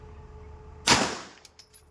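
A single sharp gunshot cracks out loudly at a firing range, followed by a decaying echo and a few faint clicks afterward.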